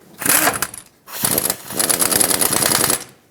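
A power tool drives the caliper bracket bolts back in on the front brakes of a 2007-2014 Chevrolet Silverado 2500 HD, giving two loud, close bursts of rattling hammering, the second one longer.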